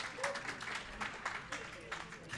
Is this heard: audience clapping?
yes